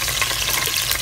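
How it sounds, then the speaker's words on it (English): Lemongrass and turmeric leaf stir-fried in a pan make a dense, continuous sizzle with light stirring scrapes, close and even, no voices. "Tumiskan serai dan daun kunyit"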